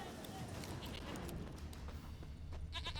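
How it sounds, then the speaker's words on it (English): A goat bleating in The Witcher video game: a short, wavering bleat near the end, heard against hoof clatter and ambient game noise, with a voice talking over it. "I hear a goat."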